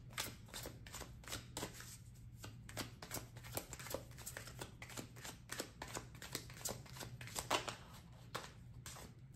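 Tarot message cards being shuffled by hand, a quick run of crisp riffling flutters and slaps repeating close to the mic, quiet overall with a faint steady hum beneath and no speech.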